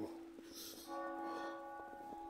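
Sheffield Cathedral bells ringing on a snowy day, heard from the street at a distance as sustained, faint tolling tones over steady outdoor ambience.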